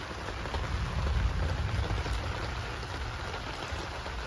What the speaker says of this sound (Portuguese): Chuvinha começou.